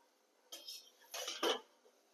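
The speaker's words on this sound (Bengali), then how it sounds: "ঢাকনাটা আমি তুলে দিলাম।" A lid lifted off a cooking pot of simmering mustard and green bean paste clatters in three short, clinky metallic bursts, near and fairly quiet, with no talk.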